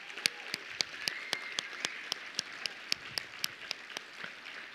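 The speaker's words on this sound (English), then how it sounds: "Let's give them a huge round of applause." Conference audience applauding after closing remarks, a sparse, fairly distant clapping with sharp individual claps rising above a soft crowd wash, no talk over it.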